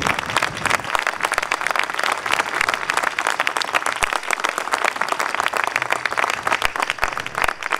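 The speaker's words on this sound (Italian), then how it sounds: "vorrei che mandassimo un grande applauso anche a Rita" A crowd at an Italian political rally applauds for Rita, a former mayor, with loud, sustained, dense clapping from many hands, steady throughout and without speech over it.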